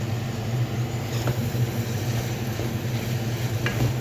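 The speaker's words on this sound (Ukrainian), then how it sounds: "перемішуємо гарно" Vegetable pilaf with ground black pepper stirred in a pan makes a continuous soft sizzle and shuffling scrape, moderately close, with a few faint clicks of the utensil and no talk.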